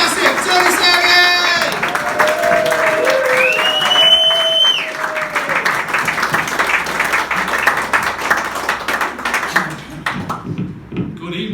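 An audience at a comedy club in Cottingham, the Backroom Bar, claps and applauds in a dense, continuous patter, loud at first and thinning toward the end, with a voice and some tonal sounds over it.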